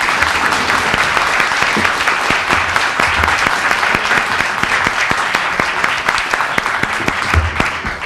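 An audience at a candidates' debate claps steadily for several seconds, a dense, even burst of applause with no voices over it.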